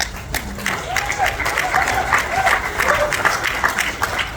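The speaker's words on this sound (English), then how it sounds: "Oh, you all not clapping loud enough." A gala audience claps continuously and fairly near, a sustained ripple of applause with a speaker's voice heard over it.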